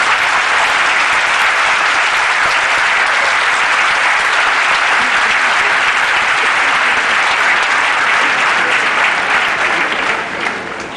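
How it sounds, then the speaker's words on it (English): Graduation ceremony audience applauding the graduates: loud, dense, sustained clapping from a large crowd, unbroken for the whole stretch and easing slightly at the very end. "Give yourselves another round of applause."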